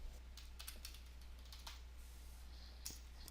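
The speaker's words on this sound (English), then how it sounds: "I'll just go ahead and type in my title." Someone types on a computer keyboard, with quick, faint, close key clicks in short irregular bursts against a quiet background.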